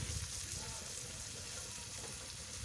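Chopped onion fries in oil with a quiet, continuous hiss, with no distinct stirring strokes.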